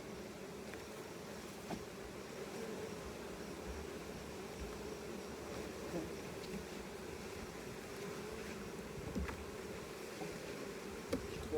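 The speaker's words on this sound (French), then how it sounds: "Là, maintenant, on va shaker des abeilles." Dense, steady buzzing of many honeybees just shaken from a hive frame, constant and moderately close, with a faint low hum underneath and no voices.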